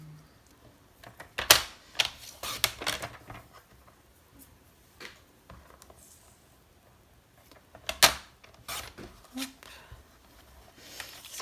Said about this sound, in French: Et après, je viens le découper avec mon massicot.